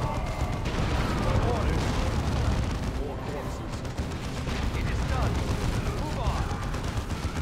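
A nuke strike in the real-time strategy game Dawn of War 2: Chaos Rising brings continuous loud battle noise of explosions and gunfire-like bursts that rumble throughout, with a voice talking over the din.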